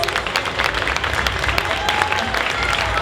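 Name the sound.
audience applause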